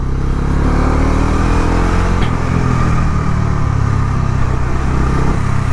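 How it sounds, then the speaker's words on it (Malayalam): A Bajaj Dominar 250 motorcycle engine runs loud and steady under acceleration, a continuous close-up drone with a slight shift in pitch partway through, with no one talking. "വളരെ ലീനിയറായിട്ടും വളരെ എന്താ പറയുക ഒരു ശാന്ത സ്വഭാവമായിട്ടാണ് നമ്മുടെ ഡോമിനാർ 250 കയറുന്നത്"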